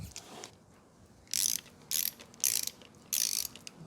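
A torque wrench ratchets while tightening 12mm bolts on a Honda GSR engine during a reseal: four short, close bursts of rapid clicking separated by brief pauses, in an otherwise quiet space.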